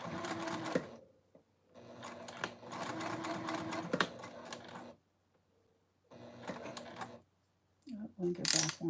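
A sewing machine stitches a lined circle bag, its operator raising the presser foot with the knee lifter; steady bursts of machine stitching stop and start with short silent pauses between runs.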